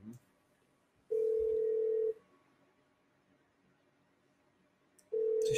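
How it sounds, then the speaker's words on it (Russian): A Yealink IP telephone plays its call signal as a steady single-pitch tone of about one second, followed by three seconds of quiet and then the tone again, clear and alone. "Кирилл, позвони, пожалуйста"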